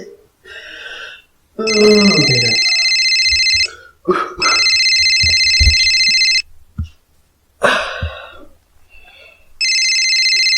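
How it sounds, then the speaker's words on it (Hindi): A telephone rings at night in a home, its electronic ringtone sounding in several loud bursts with gaps between them, while people talk and other noises fill the pauses. "काकर फोन आते रे भाई"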